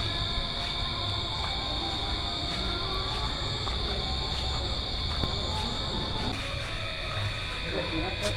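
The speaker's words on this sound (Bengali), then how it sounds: "ওই জন্য খুব ঝিঝি পোকা ডাকছে" Crickets chirp outdoors at night near a jungle by a beach resort, a steady high-pitched drone heard faintly through closed windows and doors over a low room hum.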